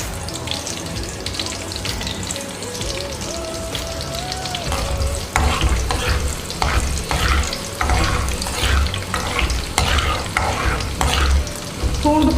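Curry leaves fry and get stirred in hot oil in a home kitchen pan, giving a loud, continuous sizzle with bursts of crackling and scraping stirs that grow more intense midway.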